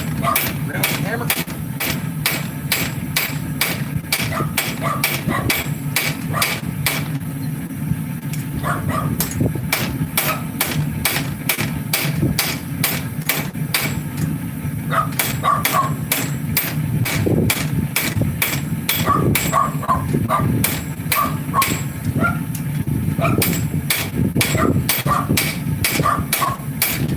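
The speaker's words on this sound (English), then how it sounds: "One more go with the round hammer." Blacksmith forging tongs with a round hammer: rapid, regular ringing hammer blows on hot metal over an anvil, loud and close, in bursts with brief pauses across the stretch, amid a background hum.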